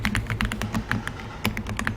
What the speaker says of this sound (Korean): 키보드에서 컨트롤 키를 누른 상태에서